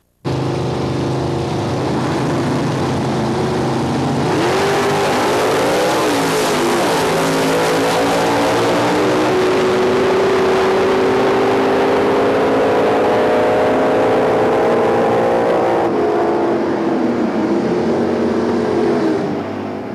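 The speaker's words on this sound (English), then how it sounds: "let's take one more look at John Friel's Hemi Dart in action at the Dutch Classic." A loud Hemi Dodge Dart drag racing engine roars continuously at a drag race, revving up and surging as it accelerates hard, the pitch climbing and holding before easing off near the end.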